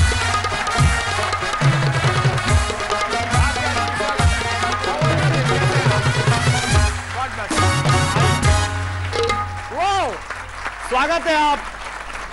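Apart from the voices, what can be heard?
audience applause welcoming poets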